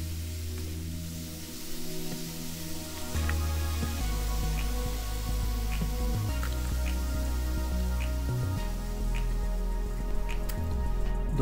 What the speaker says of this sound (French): Est-ce que ça coule? Moi j'ai l'impression que ça coule par en bas.